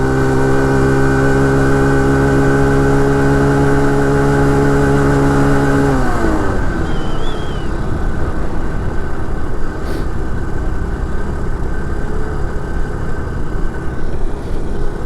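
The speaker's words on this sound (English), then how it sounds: "This motor is only air cooled, so maybe I don't want to run it full throttle the whole time." A 49cc four-stroke air-cooled engine on a motorized bicycle drones loudly and steadily while riding, its pitch dropping after about six seconds into a rougher, noisier rumble with wind buffeting.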